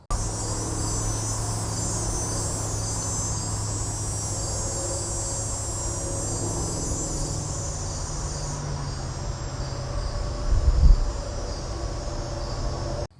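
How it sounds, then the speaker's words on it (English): A constant high cicada buzz fills the air over a low rumble of distant cars and trucks on a highway below, with a brief louder thump near the end. "You may notice the buzz of the insect that is called the cicada"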